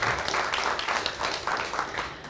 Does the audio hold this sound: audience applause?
yes